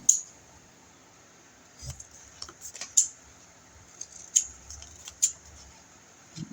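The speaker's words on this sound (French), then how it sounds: "On va couper un peu les angles." Scissors trim the corners of a paper photo for a baby boy's scrapbook album, giving a few sharp, close snips spaced a second or more apart over a faint steady hum, with no talking.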